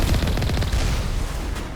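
Enemy missiles fire in the Mass Effect video game, a dense run of loud, rumbling booms and crackling blasts that rolls on steadily for the whole short burst, close and heavy.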